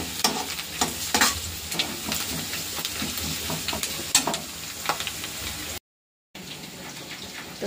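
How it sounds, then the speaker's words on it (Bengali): Onion frying in oil with bay leaves, with occasional stirring and scraping over a steady crackling sizzle that runs throughout, with a short drop to silence near the end. "পেঁয়াজটা ভাজা হচ্ছে তেজপাতা দিয়ে তেলে।"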